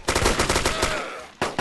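Rapid automatic gunfire in DayZ, a close, loud burst of shots in quick succession, briefly pausing before another shot cracks out.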